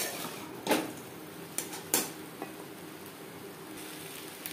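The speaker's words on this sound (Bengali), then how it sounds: "পেঁয়াজ টমেটোর সাথে মাছ বেশ ভালো করে মিক্সড করে দেব।" Puti fish frying in a pan with onion and tomato, a steady soft sizzle with a few sharp clicks as it is stirred over medium flame; no talking.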